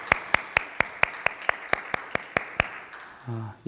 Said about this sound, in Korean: 우리 환영의 박수 하시겠습니다.